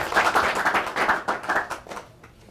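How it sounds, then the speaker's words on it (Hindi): An audience claps and applauds to welcome a farmer quiz-show winner, a dense, loud patter of many hands that swells and then tapers off over about two and a half seconds. "तो जोरदार तालियों के साथ इनका स्वागत हो जाए"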